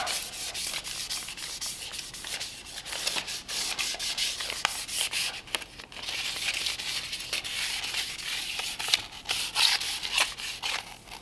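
Steady scratchy rubbing of 800-grit sandpaper on a Lucite steering wheel from a Lincoln V-12, continuous close strokes with a brief pause near the middle, no talking.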